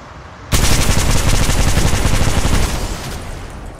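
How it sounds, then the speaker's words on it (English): Sustained automatic gunfire in the mobile game Apex Legends Mobile bursts in loud and close after a brief quiet start, a rapid continuous rattle that eases slightly toward the end, with no talking. "Opening fire on the enemy."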